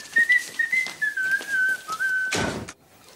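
A girl whistles a clear, wavering tune in short connected phrases, loud and close, ending in a brief breathy burst before going quiet.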